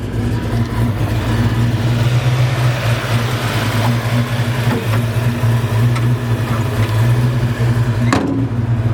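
A 1986 Ford Mustang GT's rebuilt 302 V8, bored to 306, runs loud and close with a steady, punchy low rumble and a few sharp blips near the end, with no talking over it.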